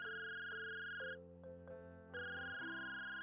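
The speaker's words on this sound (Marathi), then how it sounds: "तितक्यात त्याच्या मोबाईलची रिंग वाजली." A mobile phone ringtone plays alone, a clear electronic melody of repeated bright tonal notes that shifts pattern partway through, fairly quiet.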